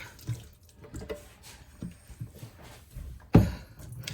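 Canned tomatoes drain in a home kitchen, giving a continuous wet trickling and splashing of water with small knocks and one sharper splash near the end, close by and steady.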